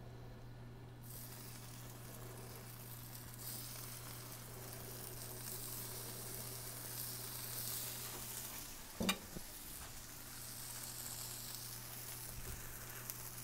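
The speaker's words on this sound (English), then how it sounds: "Got them sizzling up." Steady hissing sizzle of French toast frying in a pan, continuous throughout, with a brief clink partway through and a low hum beneath.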